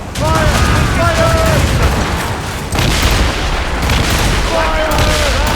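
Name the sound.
ship cannon fire in video game Assassin's Creed Rogue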